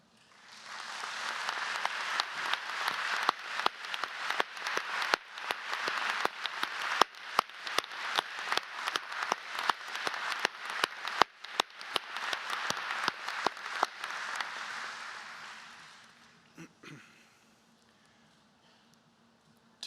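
Sustained applause from a large audience at a medical school commencement ceremony, dense clapping holding steady for about fifteen seconds before tapering off into quiet room noise.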